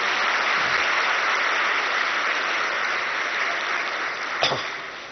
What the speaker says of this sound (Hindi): और जो पहली बार आए हैं वो अपने लिए एक बार जोरदार ताली बजाइए।